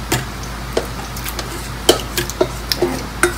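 Kimchi is stirred in a pan for kimchi pancake while the oil heats, with light scraping and clicking of a utensil against the pan in scattered taps over a low, steady background hum.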